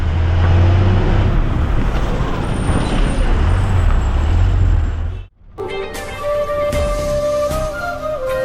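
A brand-new TNSTC BS-6 bus on the Madurai to Munnar route rumbles along with a loud, steady engine drone and road noise, then cuts briefly before a tonal whine and rattling of the moving bus resume.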